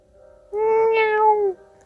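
A cat gives one clear, close, sustained meow lasting about a second, with near silence before and after.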